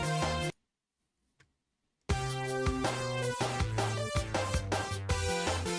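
Retro-styled game music from Sonic 4 on iOS: a loud chiptune-like melody with steady rhythmic accents breaks off into about a second and a half of silence, then resumes at full level.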